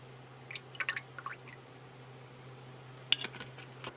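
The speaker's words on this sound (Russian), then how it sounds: "И пару капель скипидарчика." A few drops of turpentine fall into a BK-3550 ultrasonic cleaning bath holding detergent powder: faint, scattered drips in two small clusters over a steady low hum, with quiet gaps between them.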